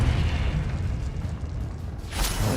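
Confringo spell explosion in Hogwarts Legacy, a dense rumbling boom that fills the short stretch with low roar and ends in a brighter crackling burst, loud and close.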